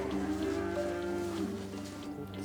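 A cow moos in a long, drawn-out low call on a farm in central Serbia, fairly close, then trails off into quiet barnyard ambience.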